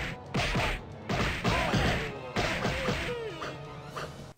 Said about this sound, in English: The sound effects are great, if a little cheesy, with comical punch noises,